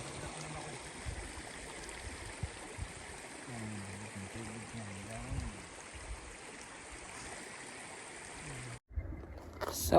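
A cold mountain creek on South Pocaterra Ridge flows in a constant broadband rush, with a brief low murmur of voices partway through before the sound cuts out near the end.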